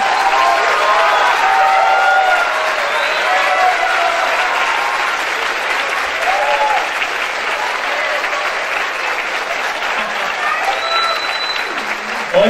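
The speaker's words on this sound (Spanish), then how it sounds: "así que les pido un fuerte aplauso para Maru Buenas." An audience at a theater event applauds an actress joining the cast of La Jaula de las Locas, with loud, continuous clapping and a few cheers and whistles lasting the whole stretch.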